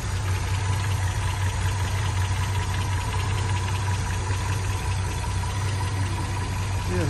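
1978 MG B engine idling quietly, a steady, even low rumble that holds throughout without revving, heard close and alone.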